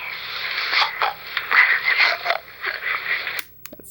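A grandmother imitates snoring with raspy, wheezing snorts, repeated in rough bursts up close before stopping abruptly.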